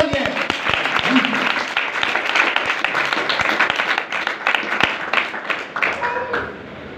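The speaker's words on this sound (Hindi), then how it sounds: "एक बार जोरदार तालियां" Audience at a Hindi-Urdu Christian sermon bursts into a steady wash of clapping, dense and continuous for several seconds with scattered sharper claps, while a voice carries over the applause.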